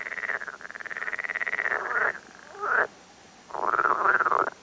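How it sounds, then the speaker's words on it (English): A male frog gives a loud, close protest croak as a long buzzing trill, then a shorter rising call and another trill after a brief pause. "it's another male who gives a special croak of protest and kicks him off"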